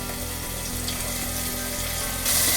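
Chopped onion frying in hot oil for a spicy okra curry, a steady close sizzle with a faint rhythmic clatter underneath, growing slightly louder near the end.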